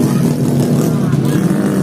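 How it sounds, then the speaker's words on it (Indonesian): Trail motorbikes ride a muddy dirt road after rain near a school, engines droning steadily and close under a voice talking over them. "Motor-motor trek gunung melibas sisa-sisa hujan."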